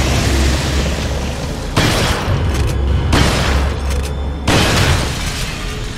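Sustained heavy gunfire from Resident Evil 4 pours out in loud, dense bursts, three long volleys separated by brief pauses, booming and continuous with no voices over it.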